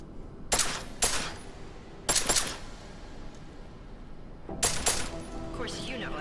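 Sharp gunshots at a shooting range in Deus Ex Mankind Divided, fired in short bursts of two or three cracks with pauses between, loud and close over a low hum.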